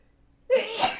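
A single short sneeze bursts out during a tabletop role-playing game session, close and fairly sharp after a moment of quiet.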